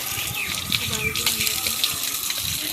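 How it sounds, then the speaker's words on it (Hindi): Running tap water gushes steadily as a child washes hands and face with soap, a continuous close splashing flow while someone talks over it. "ये साबुन से ना हाथ मुंह धो रहा है"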